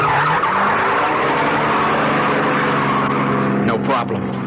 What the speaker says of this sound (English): I shoved that getaway car into gear and took off